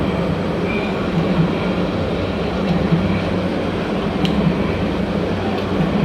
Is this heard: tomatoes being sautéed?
no